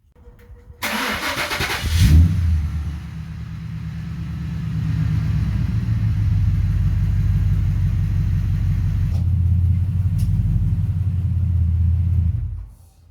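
A Ford Barra car with a BTR transmission starts up with a brief crank and catch, then its engine runs steadily as the car is taken through the gears, a close, even rumble with slight shifts in tone before cutting off.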